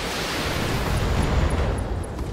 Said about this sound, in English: Ammo explosion. That's what we're looking for.